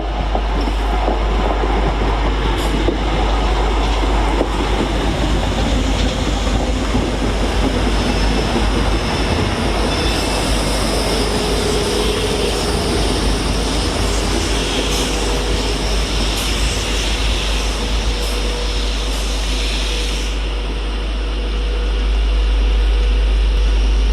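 Class 325 electric unit 325001 pulling away from Stafford along the goods line on the West Coast Main Line, a loud, close, continuous rumble with rhythmic wheel clatter that fades slightly near the end.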